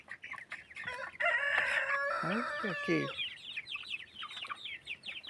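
Farmyard chickens cluck and squawk up close, with a rooster's crow breaking through and a burst of agitated calls in the middle, while a person speaks briefly over the birds.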